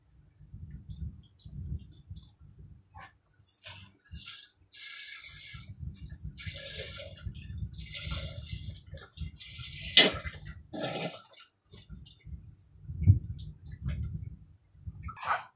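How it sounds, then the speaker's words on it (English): Vegetable stock poured into a pot for tomato leek soup, an uneven liquid splashing and gurgling in several bursts with short pauses between, fairly close and moderately quiet, with no talking. "Now we're going to add some vegetable stock to it."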